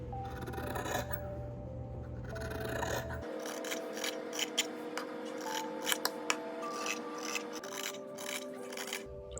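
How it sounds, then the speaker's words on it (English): Scissors snip through excess muslin fabric while trimming a bodice pattern for a sewing project, a close series of crisp cutting clicks and rasps over faint background music. "Cut off the excess fabric."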